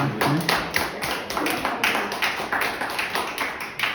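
Applause after a lecture on climate change, a small audience clapping in distinct rhythmic bursts, fairly close and steady for several seconds with little talk.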